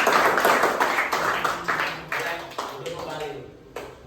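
A classroom group gives applause after a class presentation, with a burst of many hands clapping that gradually thins out into a few scattered claps.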